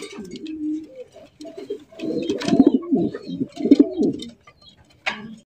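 A pair of jumbo-sized fancy pigeons at a pigeon farm coo in repeated deep, throaty bursts, loud and close, with a sharper call near the end.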